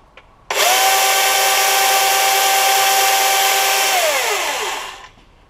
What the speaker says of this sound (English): I opened this one up for the first time yesterday. The chainsaw.